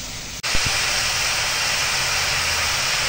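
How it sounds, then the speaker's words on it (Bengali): Small potatoes frying in oil give a steady, close, even hiss that runs on without a break after a brief click at the start, with no talk over it. "দেখো এখানে ছোট আলু ভাজছি, আর একটু ভালো করে ভাজি"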